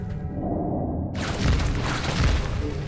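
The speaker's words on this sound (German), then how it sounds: "Die explodieren und machen Blitzdings." A deep rumbling boom swells into a loud, sustained crackling blast, a continuous roar of explosions with no pauses, in the video game Ghost Song.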